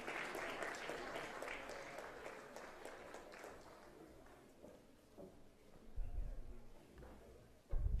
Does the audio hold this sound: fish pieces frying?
no